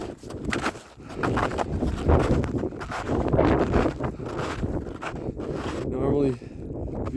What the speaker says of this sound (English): A little windy, a little snowy.